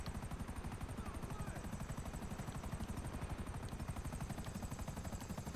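A helicopter in GTA 5 Online plays with a loud, steady rapid rotor chop through the whole stretch, close and continuous, with no one talking over it.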